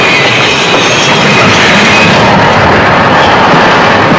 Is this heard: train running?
yes